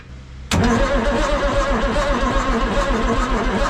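Turbocharged engine of a vehicle left in the weeds for 15 years, fed by a jump pack and battery charger, bursts suddenly to life after a moment of quiet and keeps running with a loud, rough, throbbing idle close by.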